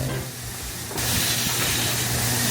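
A commercial oyster-cleaning machine sprays and hisses steadily, close and loud, with a brief quieter start before the spray surges to full strength and holds.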